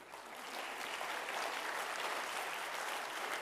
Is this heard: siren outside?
no